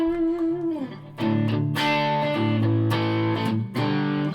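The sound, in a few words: electric guitar with slight distortion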